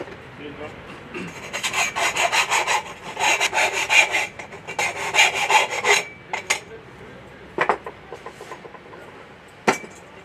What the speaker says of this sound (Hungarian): majd a sorját lereszeled, ugye?